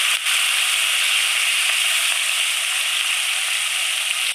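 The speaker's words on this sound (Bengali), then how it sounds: "এবার মাছটাকে ছেড়ে দিচ্ছে" Fish fries in hot oil in a kadai, giving a loud, continuous close-up sizzle that holds steady throughout.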